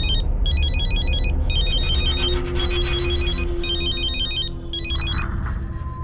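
A phone ringtone plays in repeated bursts of electronic tones. It carries on for about five seconds over a low background hum, then stops.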